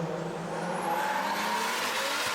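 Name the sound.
drift car accelerating in a competition battle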